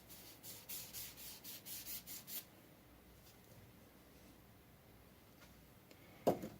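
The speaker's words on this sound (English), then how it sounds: "It'll take me a few more minutes of scraping on this one to get it where I want it to be." An engine valve from an old Chevrolet C-10 is scraped clean in rhythmic back-and-forth strokes, close and faint, for a couple of seconds. Near-silence follows, broken by one sharp knock.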